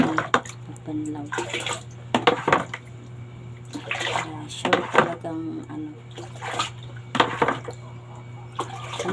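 Water splashes and drips in bursts as laundry is rinsed by hand before dawn, with rhythmic sloshing over a steady low hum.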